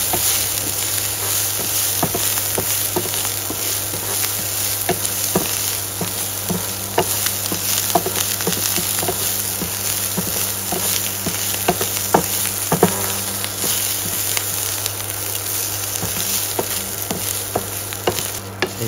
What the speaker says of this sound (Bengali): এখন আমরা চিংড়ি মাছটাকে একটু রান্না করে নেব। তেলটা দিয়েছি, তেলটা গরম হওয়ার অপেক্ষায় আছি।